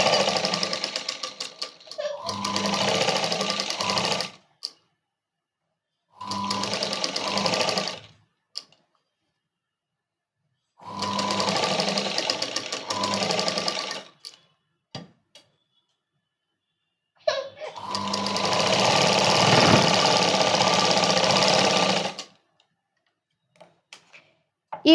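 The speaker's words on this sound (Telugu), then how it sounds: "ఈ విధంగా స్టిచ్ వేసుకుంటున్నా నేను" Sewing machine stitching the neckline of a princess cut blouse, running in four loud bursts of rapid mechanical whirring separated by short pauses, with no voices.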